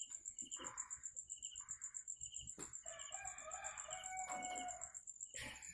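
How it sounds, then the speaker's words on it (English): A backyard rooster crows repeatedly, its loud drawn-out calls rising and falling, while a steady high insect trill and other distant fowl sounds run underneath in an outdoor setting. "Oh, the rooster, already awake. He's quarreling with the neighbors."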